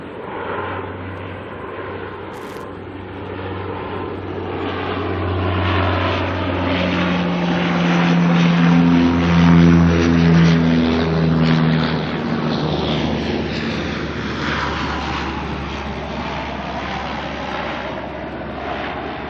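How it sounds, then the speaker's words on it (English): A Dash 8 turboprop arrives at Auckland Airport, its propeller drone and engine whine swelling from distant to loud at the midpoint and then easing away as it passes, with a steady low hum throughout. "I've got a Dashi coming in from Tauranga."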